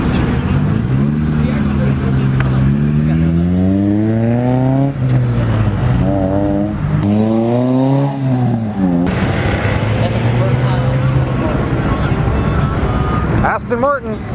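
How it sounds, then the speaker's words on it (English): An Aston Martin revs and accelerates past at an outdoor car meet, the engine note climbing through several gear changes and rising sweeps before settling, loud and close, with people talking over it. "Aston Martin."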